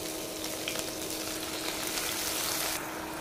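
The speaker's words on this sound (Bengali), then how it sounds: "তেলটা গরম হয়ে গেছে, পেঁয়াজটা দিয়ে দিই।" Onions dropped into hot oil fry with a steady, bright sizzle and crackle close by. No one speaks over the sound.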